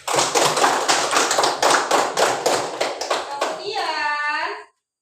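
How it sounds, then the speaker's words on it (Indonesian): Children in a classroom clap together for a classmate in a quick, rhythmic patter of many hands, with young voices mixed in; the clapping stops abruptly and is followed by a short warbling electronic tone. "Berikan tepuk tangan untuk Fatimah."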